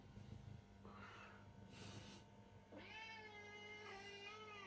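A house cat gives a drawn-out meow near the microphone, with snorting and breathy sounds just before it in a quiet indoor room.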